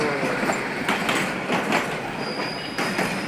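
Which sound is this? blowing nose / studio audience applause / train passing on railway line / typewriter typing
train passing on railway line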